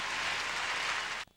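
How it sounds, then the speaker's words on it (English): Arena crowd at a figure skating Grand Prix Final in Lyon applauds after a pairs performance, a loud, dense roar of many hands clapping that holds steady, then cuts off abruptly near the end. "the applause still hasn't subsided here in the building for Anasina and Pezera."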